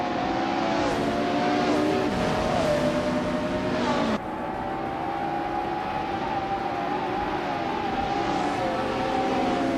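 A 1989 Ferrari F40 Competition race car screams through a racing game, its engine holding a loud, steady high drone with rising and falling pitch sweeps as it shifts, then dropping into a slightly lower, sustained roar.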